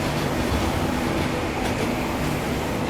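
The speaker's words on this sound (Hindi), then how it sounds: "और देखो बगल में लगी हुई है इंडियन रेलवेज की लॉन्गेस्ट ट्रेन" A steady, loud rumble of rail travel, with broadband wheel and track noise throughout, from a Shatabdi Express Vistadome coach running beside the Vivek Express, the longest train of Indian Railways; no talk.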